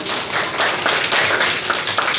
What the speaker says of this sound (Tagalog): bigyan ng masigabong palakpak ang ating sarili